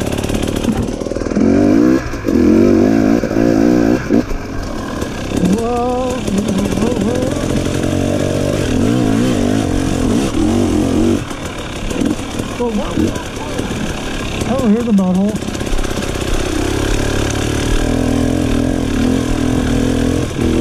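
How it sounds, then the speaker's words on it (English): Motorcycle riding along in second gear, its engine a steady low rumble with pitch shifts as it torques along, loud and close, with someone talking over it for much of the time. "I'm in second gear just torquing along, man."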